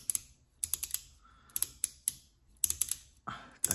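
Sharp little clicks from the adjustment screw of a Triggertech Diamond AR15 trigger being turned, coming close up in quick bursts of three or four with short pauses between, and no talk.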